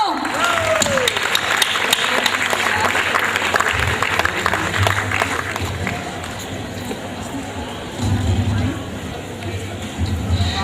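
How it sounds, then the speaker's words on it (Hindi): Loud, sustained applause from a crowd at a school event honouring teachers, welcoming a guest, mixed with crowd murmur and a voice over a speaker system. "एक बार जोरदार तालियां दोस्तों।"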